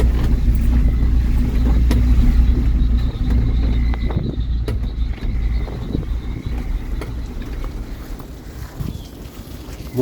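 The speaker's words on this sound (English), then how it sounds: "I was on the back of the bakkie, lots of driving, muddy roads." A pickup truck (bakkie) rumbles steadily along muddy rural back roads in the Transkei, Eastern Cape, with loud low engine drone and wind buffeting the microphone, recorded from the open back of the vehicle, no talking.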